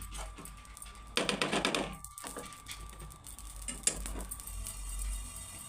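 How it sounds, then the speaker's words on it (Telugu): Poppy seeds roasting in a dry pan, crackling and popping in a quick bursty patter with scraping stirs and small clinks, quiet overall with one louder rush of crackle early on. "బ్రౌన్ కలర్ అయిపోయి ఇలా చిటపటలు ఆడతాయి అన్నట్టు"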